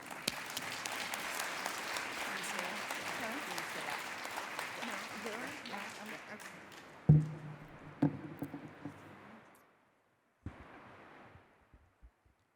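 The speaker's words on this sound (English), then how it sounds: "Let's give a round of applause for Sue Coons." Audience applause for a guest speaker at a registered nurse pinning ceremony, steady sustained clapping from a crowd that fades out, followed by a brief second burst of claps.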